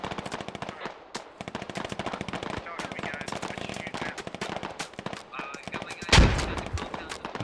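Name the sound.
gunfire from U.S. forces in a military video game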